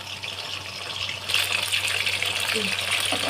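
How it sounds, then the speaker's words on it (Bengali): Pakoras sizzle and hiss steadily in frying oil, growing louder partway through, a broad frying crackle with faint voices in the background. "পকোড়া ভাজা দেখুন এইভাবে আমি সবগুলো ভেজে নিয়ে ফিরে আসছি"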